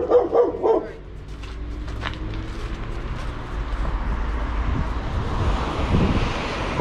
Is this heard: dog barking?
yes